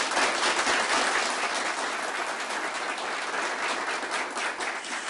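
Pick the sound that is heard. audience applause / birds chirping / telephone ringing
audience applause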